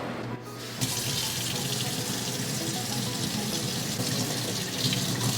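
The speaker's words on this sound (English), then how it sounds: "all we have to do is wash it off" Tap water streams steadily into a sink, rinsing etching cream off glass. After a brief quiet start, the faucet gushes loudly and evenly to the end.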